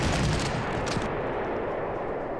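Dense, steady barrage of artillery fire from a Soviet corps in the Panzer Corps strategy game during the Battle of Romania, loud and continuous rumbling blasts with no talk over it.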